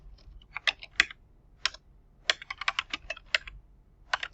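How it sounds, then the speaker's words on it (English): Someone types on a computer keyboard in quick irregular bursts of crisp key clicks separated by short pauses, close and fairly quiet in a silent room. "So I go to File and click New and click Legacy Title. Okay, so here I'll just type,"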